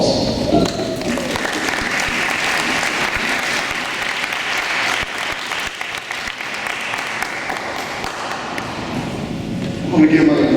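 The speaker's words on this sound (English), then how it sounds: "So all of you should be giving yourselves a round of applause." High school audience applauding, a sustained broadband crowd clap lasting about ten seconds with a few thumps and murmured voices mixed in, swelling briefly at the close.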